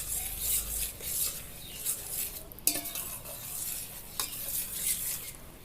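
A spoon stirs and scrapes through mango pickle with added salt in a pot, producing soft rhythmic rubbing and scraping with a couple of sharp clinks against the metal, close and fairly quiet.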